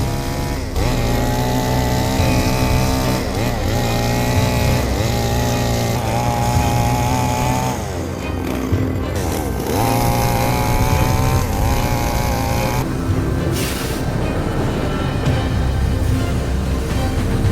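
Chainsaw or sawmill engine cutting wood logs, a loud, continuous motor drone that rises and dips in pitch as the load changes, with brief revving swells throughout.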